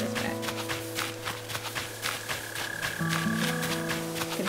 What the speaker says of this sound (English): I can hear a mole cricket.